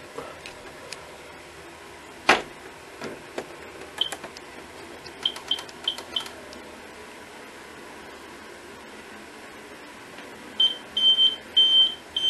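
Repeated electronic beeps in short bursts from a fire safety system alarm panel, ending with a series of steady tones, over a quiet background with occasional clicks.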